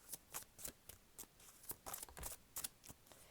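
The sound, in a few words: shuffling cards for a card reading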